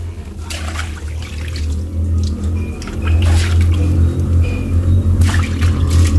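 Water is poured over a car battery to rinse away its acidic fluid, a steady splashing pour with brief bright spatters that grows fuller and louder midway, close by and without talk.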